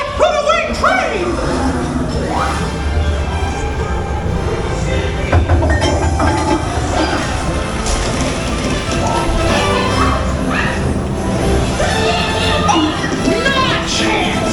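Runaway-train effects on Mickey and Minnie's Runaway Railway at Disney's Hollywood Studios: loud, continuous rumbling and clattering mixed with music and voices, steady and dense throughout with no pauses.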